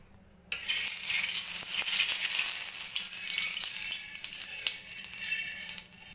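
Mustard oil poured onto a hot tawa set on a low gas flame, breaking into a loud bright sizzle that starts abruptly and keeps crackling steadily with small pops.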